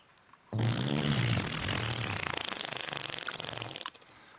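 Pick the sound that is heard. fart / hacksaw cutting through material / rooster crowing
fart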